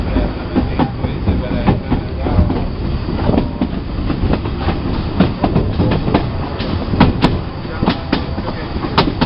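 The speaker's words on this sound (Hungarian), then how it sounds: "Megyünk a nagy vasút mellett," A train on a main railway line passes close by with a loud, continuous rumble and a rhythmic clickety-clack of wheels over rail joints.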